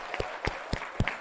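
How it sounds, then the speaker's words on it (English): A few sharp claps from an audience at an MIT Museum climate event, scattered and evenly spaced over about a second rather than building into a full ovation. "we really have to give Claudia Urrea, the PK-12 team, and Open Learning a huge round of applause"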